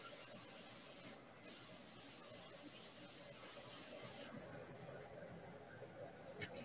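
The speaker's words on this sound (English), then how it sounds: "I'm actually spraying it on the edge of stuff to try" An airbrush spraying paint onto the edge of a wood-turned piece with a stencil, a steady close hiss that runs the whole time with only brief breaks.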